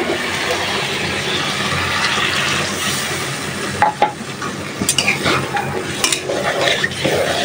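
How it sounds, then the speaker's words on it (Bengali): Potatoes and taro stir-fried in spice paste, a dense continuous sizzle with scraping and clattering stir strokes becoming busier toward the end, up close. "আলু আর কচুটা আমি ভালোভাবে কষায় নিই।"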